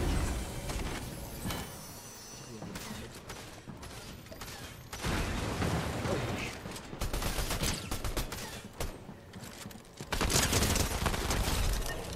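An Uzi in a shooter video game fires in dense, rapid automatic bursts, close and loud. The bursts come in several clusters with brief pauses in between, and other in-game mechanical sounds are mixed in.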